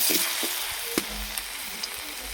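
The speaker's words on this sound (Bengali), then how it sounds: "এবার আলুগুলো ভেজে নেব।" Potatoes frying in hot oil in a pan after fish has been fried, a steady broadband sizzle with a few soft stirring knocks, close and moderately loud, with no talking.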